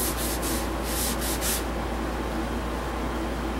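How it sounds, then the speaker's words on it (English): Spanish cedar being polished with Yorkshire Grit abrasive paste, a soft steady rubbing hiss with a few brief brisk strokes at first, then an even quiet scrubbing noise. "I should be able to get this Yorkshire grit to work on this larger piece"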